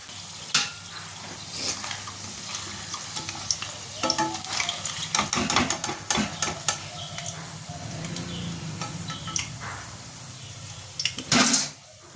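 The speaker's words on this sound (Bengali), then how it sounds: "চলো বড়গুলো ভেজে নিই" Bora fritters frying in a pan of oil, a continuous close sizzle punctuated by scraping and stirring clatter, with occasional sharper knocks of a utensil against the pan.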